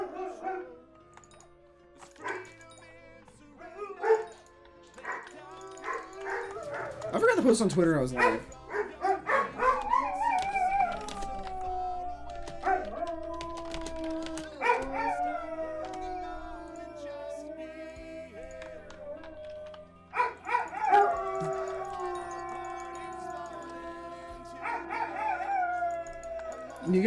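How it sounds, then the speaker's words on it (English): Several dogs bark and let out long wavering howls in response to sirens, close and loud, with a person talking over them now and then. "My dogs are barking at the sirens."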